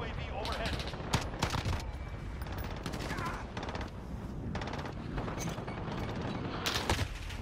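Gunfire in the shooter Call of Duty Modern Warfare on the Khandor Hideout map: repeated sharp bursts and shots over a dense, busy battle bed, with a voice talking throughout.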